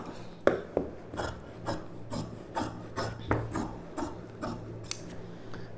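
Silk saree blouse fabric being cut with scissors, a near, regular series of rasping snips and rubs repeating about every half second, with no talk.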